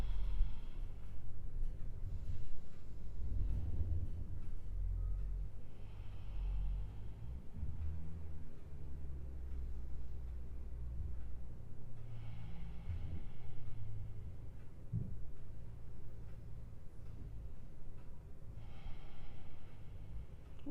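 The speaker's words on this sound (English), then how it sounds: "5 deep breaths here." Slow, deep breaths taken during a calming yoga flow, several soft airy inhales and exhales spaced out evenly over a low steady background hum.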